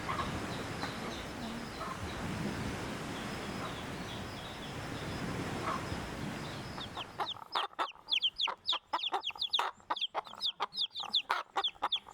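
Chickens cluck in quick, repeated bursts close by, following a stretch of dense rustling background noise.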